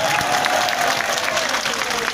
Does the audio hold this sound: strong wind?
no